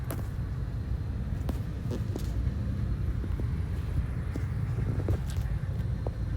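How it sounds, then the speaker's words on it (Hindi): Road traffic in a traffic jam, a constant low rumble of idling and slow-moving cars with occasional brief passing whooshes and clicks, steady and fairly near. "ट्रैफिक जैम पे निकली हूँ मैं।"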